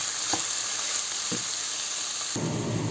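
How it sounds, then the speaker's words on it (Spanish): Sliced red and green peppers sauté in a hot pan with a steady, close sizzle, broken by a few short scrapes of stirring and a louder burst of frying near the end. "y la sofreímos moviendo durante 3 minutos"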